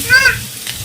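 Chopped garlic hitting hot oil in a wok, a brief loud sizzle and hiss up close, lasting under a second.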